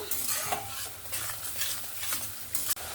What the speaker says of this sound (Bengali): এবার ভালো করে পেঁয়াজ বাটাটাকে তেলের সঙ্গে মিক্স করে নেব